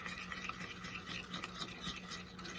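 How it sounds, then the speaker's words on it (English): Chocolate ganache being stirred in a bowl, a steady close, soft wet swishing and scraping that repeats in quick strokes without a pause. "we are just gonna give the ganache a stir"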